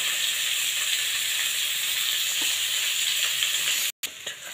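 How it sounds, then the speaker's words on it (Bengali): Onions with dried red chili and bay leaves sizzle in hot oil in a pan, a steady close hiss that cuts out briefly near the end and resumes. "পেঁয়াজটা ভাজা হয়ে গেছে,"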